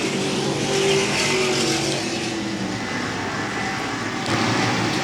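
Ford modified race cars at a short track roar past in a dense pack, engines loud and sustained throughout, with a brief lift in intensity near the end.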